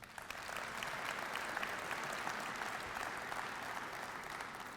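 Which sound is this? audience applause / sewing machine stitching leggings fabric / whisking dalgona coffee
audience applause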